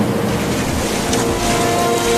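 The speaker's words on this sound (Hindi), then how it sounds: "देखो कितनी तेज बारिश हो रही है।" Heavy rain pours over a flooded village, a steady broadband wash of water noise filling the clip without a break, loud and close with no voices.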